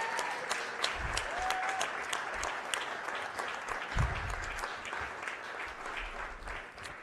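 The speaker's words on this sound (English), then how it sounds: "Let's start by giving this group a large round of applause for all their work" A Rochester city council chamber audience gives a large round of applause, dense steady clapping holding for about seven seconds at moderate distance, with a faint tone and low thumps underneath.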